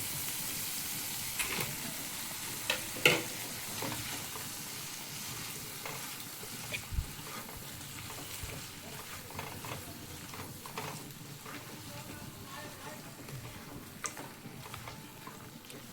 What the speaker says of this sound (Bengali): এর মধ্যে আমি ভেজে রাখা মাছের মাথাগুলোকে দিয়ে দিচ্ছি।